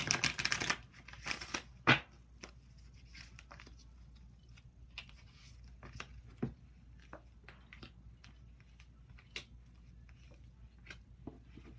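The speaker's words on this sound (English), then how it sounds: "You hear me shuffle these cards." A deck of card-reading cards is shuffled nearby, giving a burst of riffling at the start, then soft intermittent taps and slides of cards over a quiet room.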